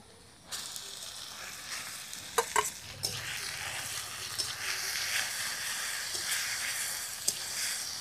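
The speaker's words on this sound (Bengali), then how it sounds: "ভর্তাটাকে এইভাবে ভেজে নিতে হবে আরেকটু" Ground yardlong-bean paste sizzles and hisses in a pan with fried onion while a spoon stirs and scrapes now and then, steady and moderately loud.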